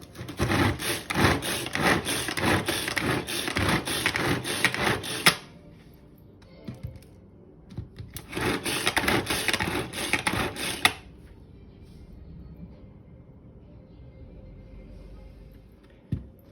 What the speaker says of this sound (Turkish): Malzemeleri tekrar bir daha kontrol ediyorum ve şu soğanı çekiyorum.